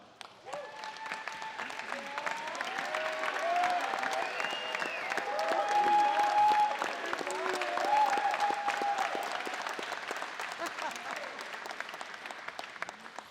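Alumni volleyball players from the mid-to-late 1970s and 1980s stand to a sustained round of crowd applause at a men's volleyball alumni day; the clapping swells, peaks, then gradually thins, with scattered voices and cheers mixed in.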